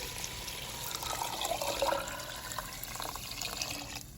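Water is poured into a pan of sautéing vegetables while making Mexican-style elotes locos, a soft continuous splash and fizz that swells briefly mid-pour, close but fairly quiet.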